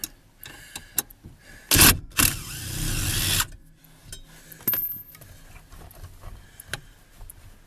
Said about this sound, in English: I have an impact driver.